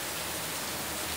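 Steady rain falling outside, a dense continuous hiss filling the whole short stretch with no voices over it.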